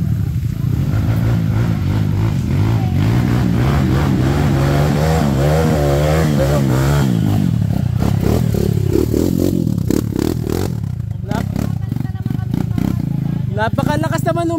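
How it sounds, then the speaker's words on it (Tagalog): At a DRT Bulacan drag event, a loud stage 3 motorcycle engine roars and revs through a sustained rising-and-falling whine, close and overpowering, with a chattering crowd and shouts underneath throughout. "Napakalakas naman ng motor na yun."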